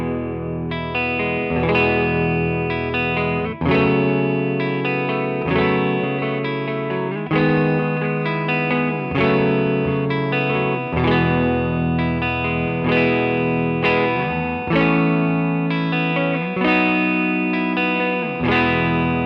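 A clean electric guitar through a Fender Deluxe-style amp capture plays steady strummed chords with bright, ringing harmonics, dry and close with no reverb, continuous for the whole stretch with no voices.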